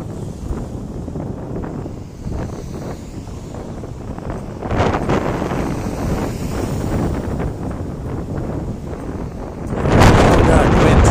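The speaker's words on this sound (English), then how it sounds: "Oh god, wind." Wind buffets a microphone outdoors on a street in Japan. It is a continuous low rumble with gusts that swell and grow loudest near the end, with a voice heard faintly underneath.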